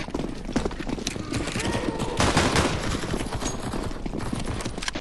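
Gunfire in the CS:GO zombie escape mod, a dense, busy clatter of rapid shots from several weapons that runs throughout, with a louder burst midway and game sounds mixed in.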